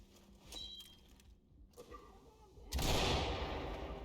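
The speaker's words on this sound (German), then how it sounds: "hier hinten schießt was" Video game gunfire crackles in sharp bursts, with scattered distant shots early on and a loud close burst near the end over a busy background.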